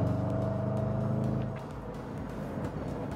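A 550 hp Range Rover Sport SVR V8 drones steadily from inside the cabin on the Nürburgring, a loud low engine hum that eases off about halfway through into a quieter rumble.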